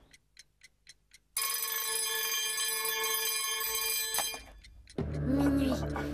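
An alarm clock first ticks briefly, then bursts into a loud, continuous metallic ringing that lasts a few seconds before stopping. Another sound follows right after it.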